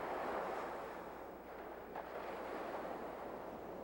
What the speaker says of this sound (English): towering waves from far-off storms pound the coastlines from Maine to Rhode Island.